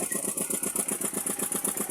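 A motorcycle engine runs close by with a fast, regular pulsing throb, loud and steady throughout.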